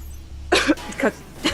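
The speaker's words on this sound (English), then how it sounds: "I just started coughing instead" A commentator casting a StarCraft II PvT finals match coughs three times in quick succession, loud and close to the microphone over a low steady hum.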